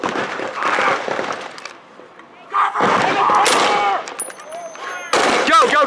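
Bursts of covering gunfire from WWII reenactment rifles and machine guns crack loud and close in a town battle, clustered volleys separated by short pauses and ending in a sharp final burst.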